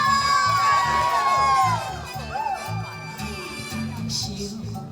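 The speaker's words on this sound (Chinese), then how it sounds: "尖叫声" Audience at a singing performance screaming and cheering in a dense crowd roar, loudest at first then easing off, with a steady low rhythmic backing underneath.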